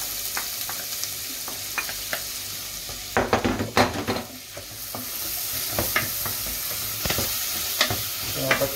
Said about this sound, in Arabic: نخليوها دابا حتى تقلى مزيان. دابا كنلوحو البصلة ديالنا